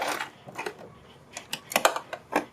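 Short bursts of a sewing machine running a straight stitch along a high-neck collar, several quick close runs stopping and starting, no talking.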